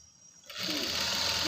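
A sewing machine starts up and runs steadily, stitching piping onto cloth; the whirring motor is close and continuous after a brief quiet moment.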